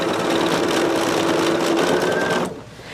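A sewing machine chain-stitches half-square triangle quilt blocks in a fast, steady close whir that stops abruptly near the end.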